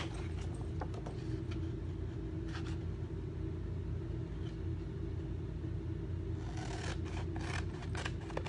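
Scissors snip through paper to cut out a knife shape for a chalk transfer craft, giving quiet intermittent crisp cuts over a low background rumble, with a denser burst of snipping near the end.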